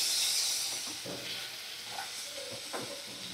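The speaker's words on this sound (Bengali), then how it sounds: "তো ভালো করে সমস্ত মশলা আমি 2 মিনিট একটু নাড়াচাড়া করে নেব।" Ground spices, salt and cumin paste are stirred in a hot pan, giving a soft steady sizzle with a few brief scraping strokes, fairly quiet and with no voices.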